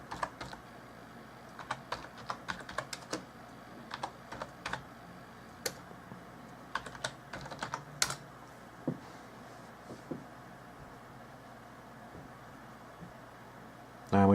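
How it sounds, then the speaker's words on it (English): Someone types on a computer keyboard in short, quick bursts of clicking keys, with pauses between them, nearby and fairly quiet over a soft background hiss. "now I'm going to type two random words in here"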